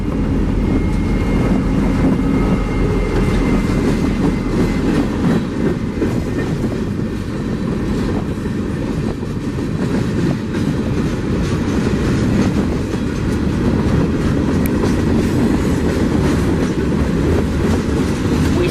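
A freight train led by an SD40-3 diesel locomotive rumbles steadily past in central Florida, its heavy low drone and rhythmic clatter of wagons holding loud and constant throughout.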